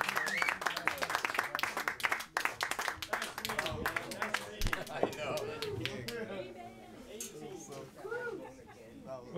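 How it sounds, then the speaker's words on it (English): Audience clapping at a live jazz quartet show, dense applause from many hands filling the room, tapering slightly toward the end with some voices mixed in. "You may applaud again."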